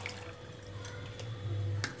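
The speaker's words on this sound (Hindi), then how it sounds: "इसके बाद आधा गिलास पानी डाल देना है" Half a glass of water poured into a karahi of chicken, a brief liquid splash and trickle with a low steady hum beneath.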